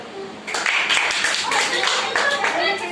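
Group of singing-class students clapping together in a devotional Krishna bhajan session, a dense burst of hand claps starting abruptly and continuing steadily and fairly loud, with voices mixed in.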